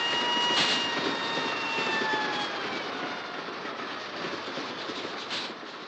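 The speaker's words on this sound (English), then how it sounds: "to simulate, to replicate the noise made by the train passing along through tunnels and bridges" Simulated train noise from the film Night Mail: a steady, dense roar of a train passing through tunnels and over bridges, with faint whistling tones drifting above, continuous and fairly loud throughout.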